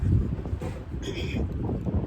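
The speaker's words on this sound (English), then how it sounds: "It's a windy day, so bear with me." Gusty wind buffets the microphone in low rumbling rushes, steady throughout with a faint higher whistle midway.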